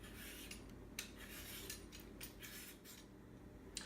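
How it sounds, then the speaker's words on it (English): A peeler scrapes repeatedly along a halved, seeded butternut squash, giving a series of faint, close, rasping strokes in an irregular rhythm, with no talk. "Then you'll want to peel the squash."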